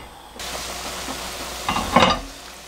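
A whole tough yellow chicken simmers for a hwanggi baeksuk in broth on high heat, yellow fat floating on top, giving a steady close bubbling hiss that swells into a louder burst near the end.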